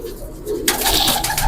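Pigeons of a fancy shadar nadar type kept in Sialkot coo softly, a brief, close, throaty murmur over a hiss of background noise.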